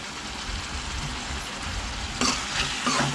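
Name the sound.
onion and tomato frying in a pan with salt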